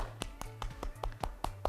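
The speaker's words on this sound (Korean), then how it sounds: "가라사대 박수 쳐요" Children's claps at a preschool Sunday church service, about eight sharp hand claps in a steady rhythm with a low hum beneath, fairly close and moderately loud.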